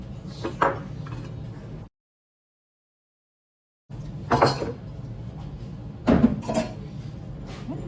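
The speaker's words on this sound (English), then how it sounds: "I'm gonna chop this with a lemon jar" Garlic crushed with a lemon jar in a home kitchen while making fire cider: a few sharp glassy knocks and clinks in short bursts, separated by a silent gap, fairly close and quiet.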